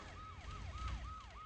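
A siren wails in a steady repeating up-and-down cycle about every quarter second, loud and continuous over low rumbling traffic noise, with no talk.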